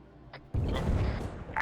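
A heavy gun or artillery blast in the military shooter ArmA 3 booms loudly and close, followed by a sustained rumbling roar and a second sharp report near the end.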